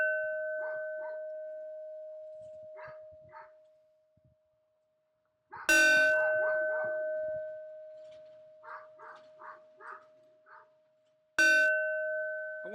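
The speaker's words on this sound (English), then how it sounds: "let's do the bell" A bell rings twice with sharp metallic strikes and long, steady ringing tones, while a dog barks and whimpers intermittently between the rings.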